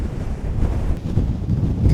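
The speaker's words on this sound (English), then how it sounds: "God, it's so windy." Gale-force wind batters the microphone on a mountain golf course, producing a heavy, gusting low roar that surges and drops in loudness throughout, with no talk.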